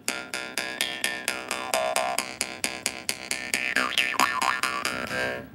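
A mouth harp played against the lips rather than the teeth gives a rapid, even series of about twenty twangy plucks, with a wavering buzzy resonance that shifts in pitch, close and fairly quiet, with no voices.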